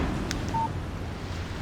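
A brief electronic tone sounds once as a text message arrives on a phone in the video game Alan Wake, set against a low, steady background rumble.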